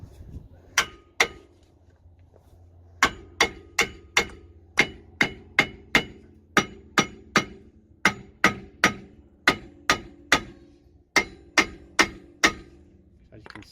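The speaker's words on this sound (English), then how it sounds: "I basically will just hammer it." An old brake disc, rusted fast onto the hub, is struck with a hammer in a driveway, producing about two dozen loud, sharp metallic clangs in a steady rhythm after two early blows and a pause.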